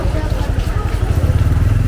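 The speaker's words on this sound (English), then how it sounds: "you will get a constant vibe of bikers moving here and there with a high speed" Motorcycle engines idling and rumbling on a busy Bangkok street, a steady low throbbing close by, with a person talking over it.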